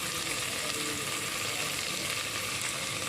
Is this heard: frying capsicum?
yes